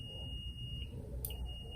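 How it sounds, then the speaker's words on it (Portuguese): A clamp meter in continuity mode gives a steady high electronic beep while testing a compressor's terminals, sounding twice with a short break between, over a low background hum. "Ele dá um bip, estão ouvindo?"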